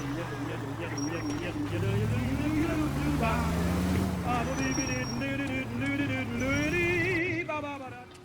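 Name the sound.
car driving in video game L.A. Noire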